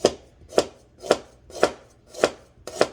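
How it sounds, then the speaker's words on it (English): A knife slices fresh unpeeled ginger on a cutting board in six crisp, evenly spaced chops, about two per second, close and clear with no talk. "Fresh ginger, you just clean up, brush it really nice, you know. You don't have to peel the skin. I'm gonna cut it right here."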